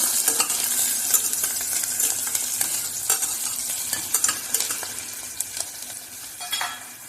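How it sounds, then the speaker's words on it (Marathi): Onion is stirred and fried in a pan over browned garlic for a bottle gourd and lentil dish: a bright, close sizzle with frequent spatula scrapes and clicks. "कांदा घालून घेत आहोत हलवून घेऊया कांदा"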